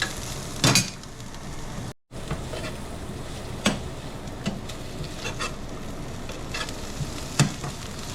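Butter being stirred in a hot pan while making a puttanesca pasta with soppressata, artichokes and sun-dried tomatoes, giving a steady close sizzle with occasional scraping knocks of the stirring utensil.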